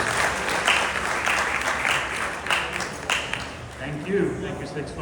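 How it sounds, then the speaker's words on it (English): Crowd applause fills the air at a Six Flags Great Adventure amusement park enthusiast event, steady loud clapping with voices mixed in that tapers slightly toward the end. "Give yourselves a round of applause."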